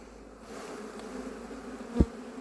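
Honeybees buzzing around a hive frame being shaken off during beekeeping, a soft, steady hum of many insects close by, with one brief louder thump near the end and no talk.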